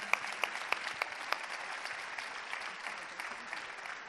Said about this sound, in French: Nous avons 15 secondes d'applaudissements pour les Bouillons du Limousin.